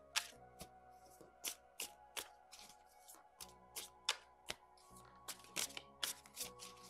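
Tarot cards riffled and shuffled by hand in a quiet room, a run of sharp, crisp bursts of card flutter repeating irregularly about once a second, close and clear with a faint tonal hum beneath.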